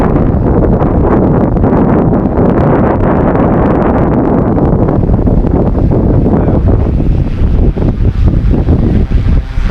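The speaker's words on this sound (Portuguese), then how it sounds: "E tá ventando demais, meu." Strong wind roars steadily into the microphone outdoors while an FW200 RC helicopter flies close by, a loud continuous buffeting rush throughout with no talk.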